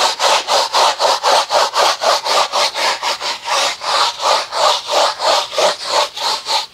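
A stiff brush scrubs a car floor mat in quick, steady back-and-forth strokes, close and loud, with a rasping rhythm that continues throughout.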